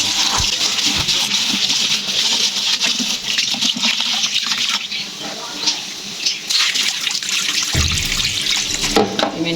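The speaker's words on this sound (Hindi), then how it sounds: "ये मैं धोने लगी हूँ चावल। इसमें अच्छी तरह धो लेती हूँ।" Rice being washed under a steady gush of running tap water fills a sink, loud and continuous with splashing surges and a brief dip near the end, no talking.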